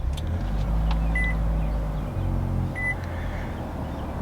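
A 2022 Nissan Altima 2.0 SR VC-Turbo starts up, its engine settling into a steady low idle hum with a couple of faint electronic chimes from the cabin, heard from inside near the driver's seat.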